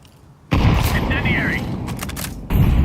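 A grenade goes off in a first-person shooter round: a loud blast hits suddenly and rumbles on amid gunfire and game effects, then a second heavy burst lands near the end, with a voice briefly audible underneath.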